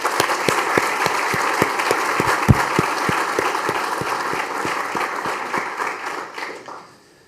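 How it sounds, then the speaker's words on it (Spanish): Audience at an economic seminar applauds steadily for several seconds, a close burst of hand claps with a few sharp individual claps standing out, then tapering off and fading to silence. "les pido un aplauso para Sebastián"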